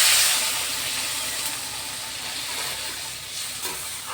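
Water poured into a pan of spiced fish curry with kuche fish sets off a loud hissing sizzle that slowly fades into a steady simmering hiss, with no talk.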